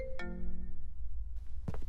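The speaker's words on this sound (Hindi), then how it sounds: "नित्या का फोन" A phone rings once with a short electronic chime, then stops, followed by a brief rustle, heard close in a quiet room.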